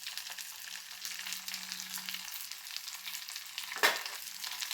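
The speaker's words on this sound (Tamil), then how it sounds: "எல்லாத்தையும் நல்லா வதக்கணும்" Ginger and neem flowers sautéing in a pan for neem flower kuzhambu, a faint, soft continuous sizzle with a brief louder scrape of stirring near the end, no voices.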